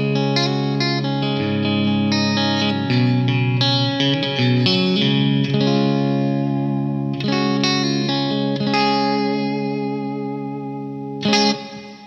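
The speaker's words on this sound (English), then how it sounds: "it just gives it this really bright, chimey, Fender-y quality, which I just love out of the clean channel" Electric guitar run through a Wampler Black '65 pedal into an amp's clean channel, giving a bright, chimey tone as chords and single notes ring out and sustain, ending with a sharp strum.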